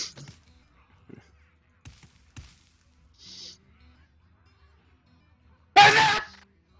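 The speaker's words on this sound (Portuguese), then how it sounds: "Deu a espirrar, sorry." One sharp, loud human sneeze bursts out near the end, after a quiet stretch of faint clicks, taps and small noises.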